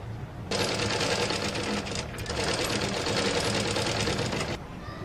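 A sewing machine runs steadily, stitching a cloth patch onto the neckline of a patchwork blouse. It whirs continuously for about four seconds with a brief dip midway, loud and close.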